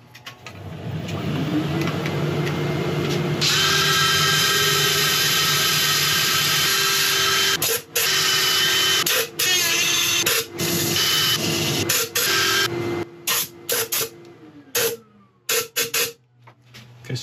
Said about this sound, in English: I shall set up for sanding